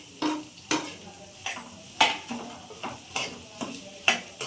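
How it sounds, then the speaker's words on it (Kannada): Onion, curry leaves and green chili are stir-fried on a medium flame for mushroom pepper dry. A spatula scrapes and clacks against the pan in regular strokes about every half second over a soft sizzle. "ಸೊ ಮೀಡಿಯಂ ಫ್ಲೇಮಲ್ಲೇ ಇದನ್ನು ಫ್ರೈ ಮಾಡ್ಕೋಬೇಕು."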